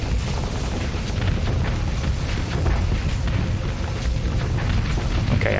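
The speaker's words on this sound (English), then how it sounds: "Siege cannon to the rescue." A siege cannon fires during space combat in the video game Starsector, a dense, continuous rumbling roar of heavy booms and blasts with no clear breaks.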